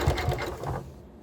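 A small domestic sewing machine stitches through a thick layer of quilt fabric, giving a short burst of rapid mechanical chattering that slows and fades out after about a second.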